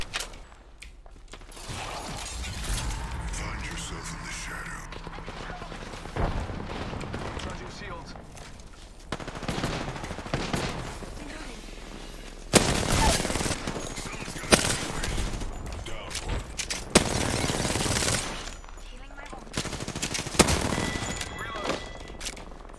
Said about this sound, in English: Engaging the enemy. Taking fire.